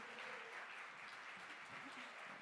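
Audience at a live music finale applauding, steady dense clapping heard from a distance and very faint throughout, with no break.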